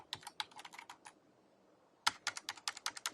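Fingers type on a computer keyboard in two quick bursts of crisp clicking keystrokes, close and fairly quiet, separated by a short pause of near silence.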